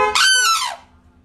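A sarus crane lets out one loud, close, bugling call that rises and then falls away, answering a car horn, with quiet outdoor background afterward.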